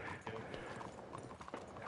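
Horse hooves clip-clop steadily in a video game, a quick regular beat close up that runs through the short moment with no talk over it.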